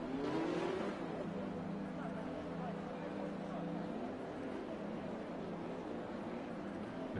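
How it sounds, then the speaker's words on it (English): Formula 10 race cars lining up on the grid before the American Grand Prix in a PSGL racing video game, a dense steady engine drone that holds throughout under continuous commentary. "The cars are preparing for the start of the American Grand Prix"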